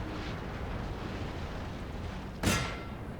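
A single sharp cannon blast from artillery in a Napoleon Total War siege battle cuts through a steady low battlefield rumble, loud and fairly close, with no talking.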